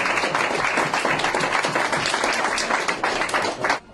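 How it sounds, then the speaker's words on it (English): A crowd applauds steadily with many hands clapping, sustained and fairly loud, fading out at the very end. "give them a round of applause for it"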